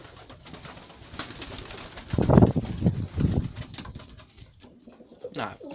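Pigeons coo in low, throaty rolling calls close by, a few bursts in the middle, amid soft rustling and faint background noise.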